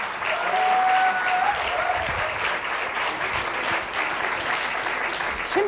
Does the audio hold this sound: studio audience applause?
yes